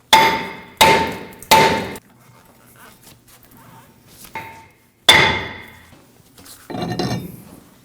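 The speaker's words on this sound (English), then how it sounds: "To free the rotor from the hub, we're going to strike it in a few places with a hammer." Several sharp metallic hammer blows strike a brake rotor to free it from the hub of a Ford F-150, three in quick succession then two more after a pause, ringing briefly each time, close and loud.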